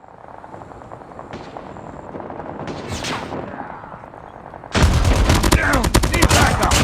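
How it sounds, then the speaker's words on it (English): Automatic sentry gun opening fire in a first-person shooter video game, a loud sustained burst of rapid gunfire that starts abruptly partway through, following quieter game ambience and effects with no talking. "Friendly sentry gun deployed."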